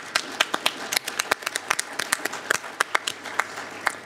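An audience applauds at a Davos 2017 panel session, a sparse run of separate, sharp hand claps from a modest number of people, spaced unevenly and fairly close.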